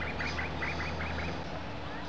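Birds call repeatedly in dense bush at Mt Mee, Queensland, a string of short squawking, duck-like notes over a steady low background hum, moderately close.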